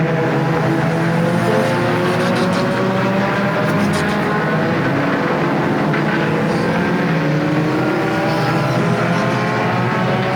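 Pure stock race cars roar around Flamboro Speedway during green-flag racing, a dense, loud, continuous engine drone with overlapping revving tones from several cars, unbroken throughout.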